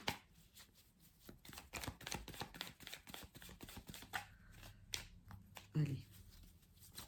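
A deck of tarot cards is cut and shuffled by hand, producing quiet, scattered clicks and soft riffling taps close up, with a little speech in the background.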